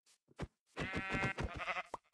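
Sheep bleating in Minecraft Bedrock, a few short bleats followed by a longer wavering bleat, close and clear with no talk.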